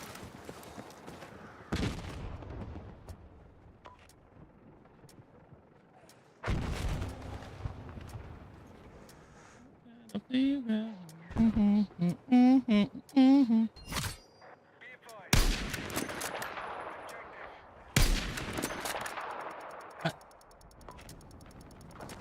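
SV-98 sniper rifle firing in a video game, several sharp booming shots spaced apart over other game sounds, with some mechanical clatter in between.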